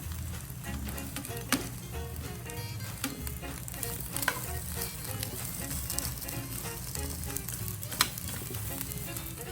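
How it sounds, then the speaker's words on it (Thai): Eggplant roasting dry, without oil, in a Teflon pan: a continuous crackling sizzle with scattered sharp pops and occasional clicks from stirring. "เหมือนเราย่างมะเขือให้สุกก่อน"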